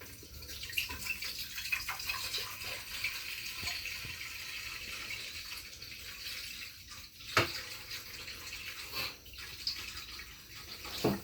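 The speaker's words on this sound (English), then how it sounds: "now while that's doing that, we're just going to add some more water" Water poured from a tap into a pot for simple syrup, a steady broadband splashing rush that stays close and continuous, with a few brief louder splashes and knocks along the way.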